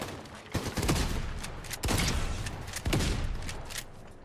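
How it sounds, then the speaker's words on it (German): Pistol shots in Fortnite crack out as several separate loud, close reports, each leaving a sustained noisy wash behind it, with no talk over them. "Aber er schießt einfach mal mit der Pistole."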